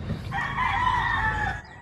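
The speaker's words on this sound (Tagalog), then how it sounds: "narinig nyo guys ha yung mga manok pala ni Byruel" A rooster crows once in a small backyard in Kalunasan, Cebu City, a loud drawn-out cock-a-doodle-doo close by, over a low background hum.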